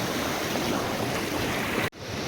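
River water rushes in a steady, dense wash on a Konkan riverbank after unseasonal rain, close and loud, then breaks off abruptly just before the end with no voices.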